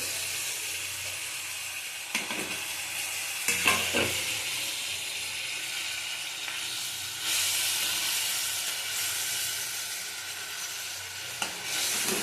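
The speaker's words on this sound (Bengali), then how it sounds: "দেখো ঝোলটা ফুটে গেছে, এবার মাছটা দেবো সিদ্ধ হওয়ার জন্য" Fish curry gravy bubbles in a pan, giving a loud steady hiss with occasional pops and clinks, close by and continuous with no voices.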